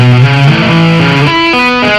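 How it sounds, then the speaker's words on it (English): Loud, close distorted electric guitar running a pentatonic tapping lick, a rapid chain of sustained, ringing notes stepping up and down without pause. "This tapping lick is based around a pentatonic box."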